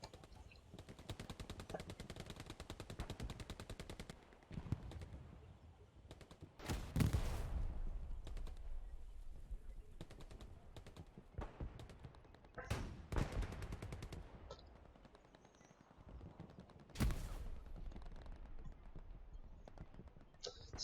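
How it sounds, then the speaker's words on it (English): Video game battle with small arms gunfire crackling through a forest around a capture point, bursts of rapid automatic fire and scattered shots at varying distances, with louder close volleys at intervals and a faint commentator's voice beneath. "Some great small arm engagements going on off the point in around Salient."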